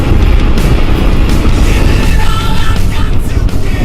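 A Kawasaki KLR 650 motorcycle carrying two riders roars loudly and continuously at speed, its engine blending with heavy rushing wind noise.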